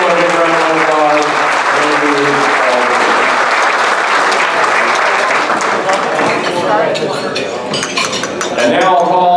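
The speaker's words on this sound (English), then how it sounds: "Let's give them a round of applause." A banquet audience at the 2013 National Skeet Shooting Association dinner breaks into loud, sustained applause, with the clink of cutlery and dishes mixed into the crowded room's clapping.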